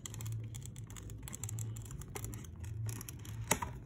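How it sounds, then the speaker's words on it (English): A Pokémon card booster box poster is peeled open gently, with soft, close scratchy tearing and crinkling in a continuous quiet patter, capped by a brief sharper rip near the end, and no talk. "So you slightly just peel this off very gently."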